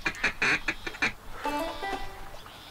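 Quacking ducks during a duck hunt, a rapid run of loud nasal quacks followed by a wavering, honking call, close and clear with no talking.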